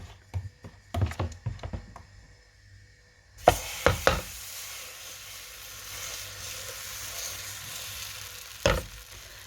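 Urad dal and semolina dosa batter frying on a pan: a few knocks and clatters of utensils, then a steady soft sizzle after batter meets the hot surface, with another sharp knock near the end.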